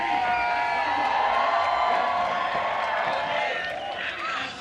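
A crowd cheers and whoops steadily at a women's street skateboarding competition at the X Games in Salt Lake City, a loud, sustained roar of many voices with a slight dip near the end.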